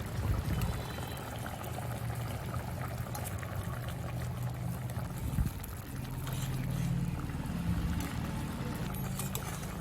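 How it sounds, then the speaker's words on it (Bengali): Egg curry gravy with fried eggs and jackfruit seeds bubbling in a pan over low to medium heat: a steady, close, continuous simmering bubble with a low rumble throughout, no voices. "ডিমের সাথে ঝোলটা আবার ভালো করে ফুটিয়ে নেব।"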